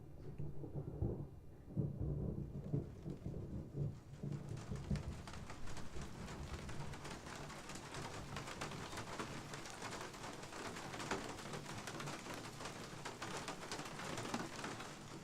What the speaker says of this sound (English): there should be a third loud thunder